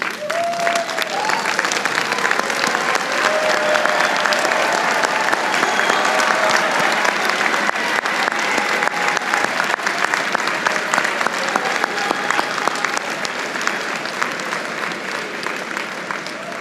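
Loud, sustained applause from a large crowd at a graduation ceremony fills the whole stretch, steady and dense with no pauses, a few faint cheers rising through it.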